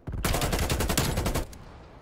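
Rapid burst of gunfire from the video game Black Ops Cold War during a pistol-only search and destroy match, loud and close, a dense volley of shots lasting just over a second before cutting off.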